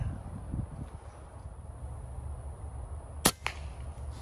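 A Benjamin .22 caliber PCP air rifle fires once during an iguana hunt outdoors in Florida, a single sharp crack heard from a distance over wind and rustling, followed by a fainter echo-like snap.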